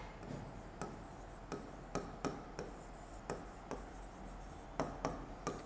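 Pen scratching on paper while a flow chart is drawn, with repeated short marks and longer strokes at an irregular rhythm, close and faint, with no talk.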